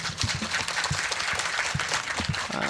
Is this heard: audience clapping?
yes